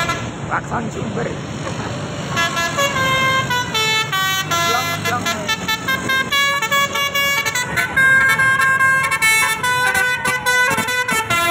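Loud bus horns blare in a busy roadside spotting scene in Indonesia, playing long, musical multi-tone melodies that repeat steadily over rumbling engine noise with no talk.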